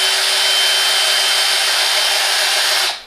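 A Porter Cable PCCK619L2 drill/driver runs steadily in its low-speed gear, giving a continuous loud whir for about three seconds before the motor cuts off and winds down.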